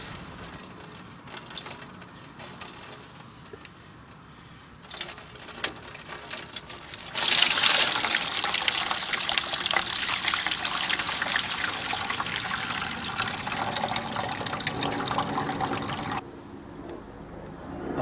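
Coolant water drains from the bottom radiator hose of a BMW K75 motorcycle into a drip tray, first a light trickle, then a strong steady splashing stream that cuts off abruptly near the end.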